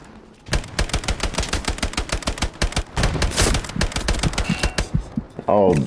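Grease gun submachine gun in the video game Hell Let Loose, firing long, loud, rapid automatic bursts of close, steady shots with a brief pause midway, followed by a short spoken remark.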